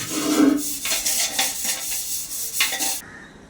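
Copper and brass pots and a bathing basin being scrubbed by hand, a run of close metallic scraping and clinking strokes in uneven bursts, with no talking.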